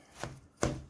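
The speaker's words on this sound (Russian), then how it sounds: "Масло холодное, все порубить." Two sharp knife chops through cold butter for pie dough, each a crisp thud on a board, evenly spaced about 0.4 seconds apart, close and clear with nothing else heard.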